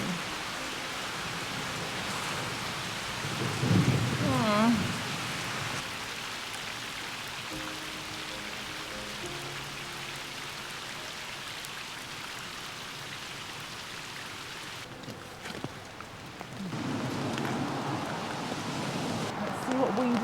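Steady heavy rain hisses throughout on a narrowboat, with low murmuring voices in the background and a couple of louder bursts.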